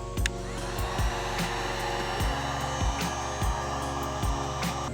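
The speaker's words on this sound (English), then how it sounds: "I'm going to heat from the top a little bit just so the bracket itself can help deform the plastic trim" A heat gun blows steadily while heating plastic trim on a 4Runner, a loud continuous whoosh with a motor hum that is briefly interrupted by soft clicks and taps, close up and with no talking.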